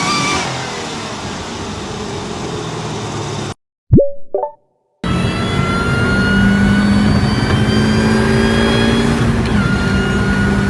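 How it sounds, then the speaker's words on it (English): Supercharged car engine revving loudly with a rising mechanical whine, a hard cut to silence around four seconds broken by a short pop, then a steady loud rev with whine resumes, no talk. "That's the supercharger spinning faster as the engine demands more air."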